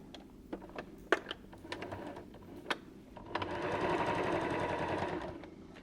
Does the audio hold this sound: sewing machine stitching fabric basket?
yes